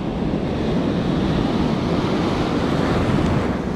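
Ocean surf washes onto a beach in a westerly wind as a loud, dense, continuous roar, heavily buffeted by wind noise on the microphone.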